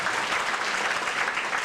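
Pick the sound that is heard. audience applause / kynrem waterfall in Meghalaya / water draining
audience applause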